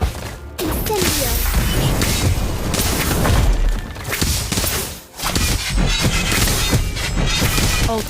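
Incendio fire spell effect in the Harry Potter: Magic Awakened mobile game, a loud continuous barrage of crashing, booming impacts and whooshes with a brief dip midway, no talking.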